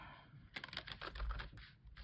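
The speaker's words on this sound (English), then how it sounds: "that's my cat sharpening its claws on something it's not supposed to" A house cat rakes its claws against something it shouldn't, giving a close, faint, scratchy rasp of rapid strokes with no voices.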